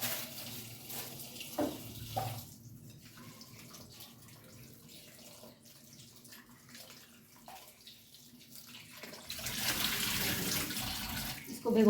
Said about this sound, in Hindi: स्ट्रॉबेरी को अलग इसमें मैं डाल के थोड़ी देर भिगोऊँगी